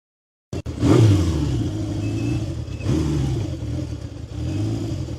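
A 1970 Honda CB750 Four motorcycle engine, started cold, catches and runs. It gives a steady rumbling idle close by with slight surges in revs, heard alone without talk.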